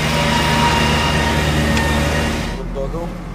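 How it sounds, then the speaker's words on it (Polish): A farm tractor drives along with a steady, close, low engine drone and rumbling harmonics, and the sound eases slightly near the end. "Ludzie biegają z pieskiem, a ja z ciągnikiem!"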